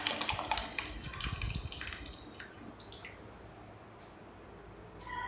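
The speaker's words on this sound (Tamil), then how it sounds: "இப்போ இதில் வேக வச்சுருக்க பருப்பை நல்லா மசிச்சு சேர்த்துக்கலாம்." Mashed cooked dal drops into a pot of boiling tiffin sambar with wet squishing plops and drips, loudest early and settling into a soft bubbling simmer.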